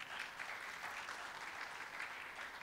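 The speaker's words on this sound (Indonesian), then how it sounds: "Boleh tepuk tangan sekali lagi." Quiet, steady applause rises from a church congregation at a youth worship service, with even clapping continuing throughout at a low level in the distance.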